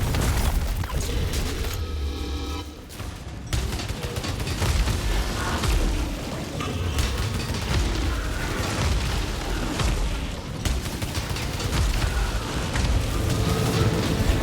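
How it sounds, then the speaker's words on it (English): Missiles exploding in the game Returnal, a dense barrage of deep booms and sharp bursts rolling almost continuously, loud and close, with a brief lull before the blasts resume. "Oh, it's missiles."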